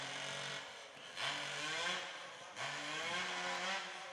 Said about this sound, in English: Now we've got to compete with the chainsaw behind them.